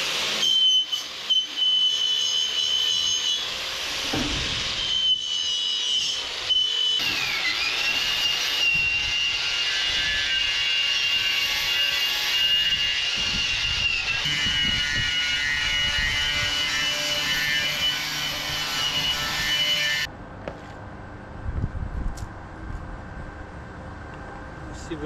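An angle grinder bevels the edges of steel trailer frame pieces ahead of welding, running as a loud, sustained high whine for about twenty seconds with small shifts in pitch, then stopping and leaving quieter workshop handling noise.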